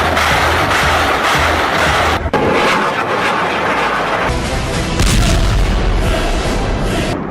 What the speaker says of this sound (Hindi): The bombs have been dropped.